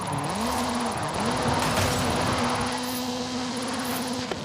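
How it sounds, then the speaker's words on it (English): Ken Block's Hoonigan Gymkhana 10 Ford Focus RS RX in Forza Horizon 5, a 2-litre turbocharged front-engined all-wheel-drive car, drones at high revs with a steady engine tone that dips and climbs briefly, heard close and continuous without talk. "This is Mr. Kenneth Block's Hoonigan Gymkhana 10 Ford Focus RS RX. 2-litre, turbocharged, front-mounted engine and all-wheel drive."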